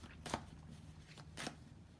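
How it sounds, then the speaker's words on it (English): A deck of tarot cards is cut and handled at close range, producing two short, soft riffling snaps about a second apart against a quiet background. "I'm going to just shuffle. Oh, I'm just cutting the cards"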